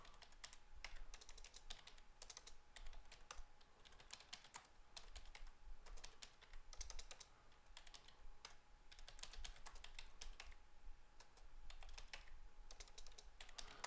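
Steady, faint typing on a computer keyboard, with rapid irregular key clicks continuing throughout at a quiet, close distance and no voices.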